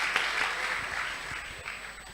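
Audience applause at a French talk show, a steady wash of many hands clapping at moderate distance, sustained without a break and slowly thinning toward the end.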